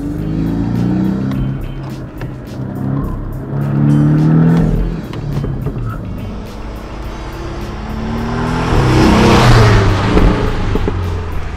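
A Porsche 718 Boxster S with a turbocharged 2.5-litre four-cylinder engine revs hard and accelerates, loud and close, its note rising and falling in several surges with a brief tire squeal.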